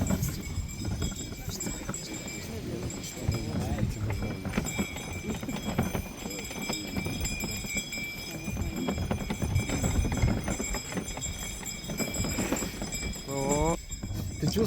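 Horse hooves clip-clop steadily through winter snow on a mountain trail over a continuous background din, with a person talking over them.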